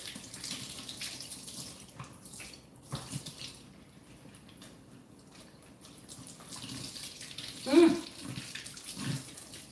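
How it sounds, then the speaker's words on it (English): Running tap water in a home kitchen while hands are washed, a soft steady wash of flowing water with a brief louder splash near the end, no talking. "I'm gonna wash my hands"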